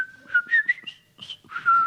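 A person whistles the Colonel Bogey march tune in imitation of a parrot, a bright wavering melody of several phrases with short gaps, close and clear with no talk.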